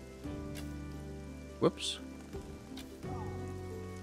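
Rain in the survival game SCUM, a soft steady patter on surfaces running throughout beneath a brief spoken exclamation and other faint game sounds.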